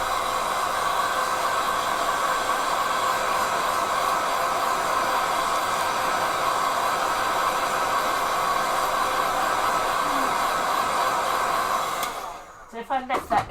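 A hair dryer blows steadily and loudly at close range over a salt watercolor texture, a continuous whooshing roar that switches off abruptly near the end.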